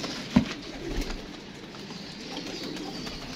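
Pigeons being packed into boxes for cargo give a soft cooing over faint handling noise, with one brief louder knock near the start; close and quiet throughout.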